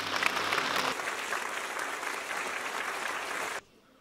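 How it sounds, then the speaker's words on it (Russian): An audience bursts into applause at a 100th birthday celebration for a veteran in Novosibirsk, a dense continuous clapping that cuts off abruptly, with a brief voice at the start. "ну и, наверное, бурные аплодисменты."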